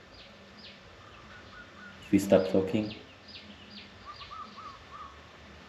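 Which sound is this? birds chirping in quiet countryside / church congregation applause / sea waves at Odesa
birds chirping in quiet countryside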